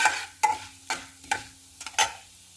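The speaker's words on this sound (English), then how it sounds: "we have to roast this urud dal in the oil for 2 to 3 minutes" Urad dal roasting in oil in a pan, heard as a series of sharp scraping stir strokes, about six of them, over a soft low sizzle with no talking.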